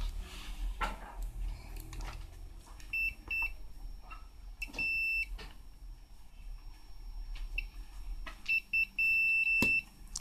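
Continuity buzzer of a multimeter checking the speaker of a vintage National pocket radio: short, high electronic beeps in separate bursts, some doubled, over faint handling clicks and low room rumble.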